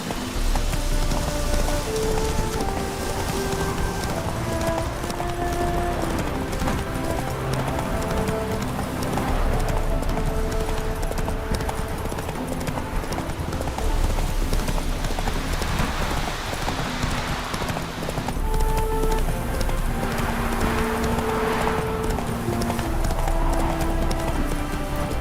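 Hooves clip-clop in a fast, steady gallop as the horse Roach runs in The Witcher 3: Wild Hunt. The beat is close and continuous over game music and a light rain-like patter.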